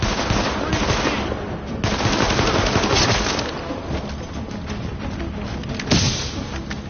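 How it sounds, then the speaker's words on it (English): Gunfire in The Division, a loud and dense run of rapid automatic shots with scattered single reports, steady at close range through most of the stretch and spiking sharply near the end. "Nice shooting there."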